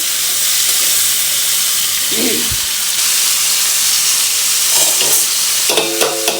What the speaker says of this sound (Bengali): এদিকে আমার ফুলকপি ভাজা হতে থাক